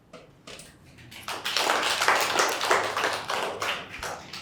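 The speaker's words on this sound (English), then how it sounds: "join your hands together to give a round of applause our last speaker" A debate audience starts with a few scattered claps, then builds into a full round of applause for the last speaker, sustained and fairly close.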